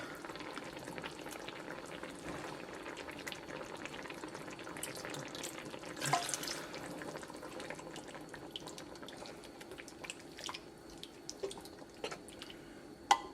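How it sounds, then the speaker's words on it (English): Coconut milk going into a simmering Panang chicken curry, giving a faint, soft bubbling and liquid patter with light drips and small clinks, quiet and continuous with no talk. "I'm going to add in a little bit more coconut milk"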